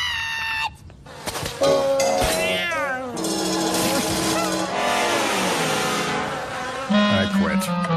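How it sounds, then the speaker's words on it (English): A cartoon cat meows briefly at the start, then a loud, busy cartoon soundtrack follows, with an engine revving, music and clattering effects. "Has anyone seen Mr. Cat?"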